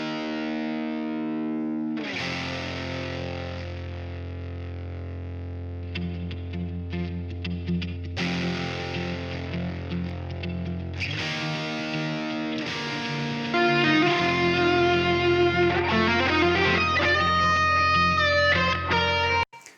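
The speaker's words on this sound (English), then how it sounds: "So now let's listen again just to the overdriven guitar." Overdriven electric guitar alone, with a distorted, sustained tone and chord hits that still carry pick attack, playing steadily and growing louder and busier toward the end.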